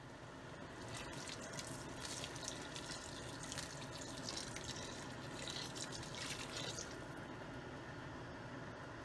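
About half a litre of water poured into a pot for a homemade couscous sauce, a steady close splashing pour lasting several seconds before trailing off, no talking.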